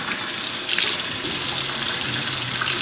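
Tap water running steadily from an apartment faucet, a close, continuous gushing splash that stays loud and even throughout.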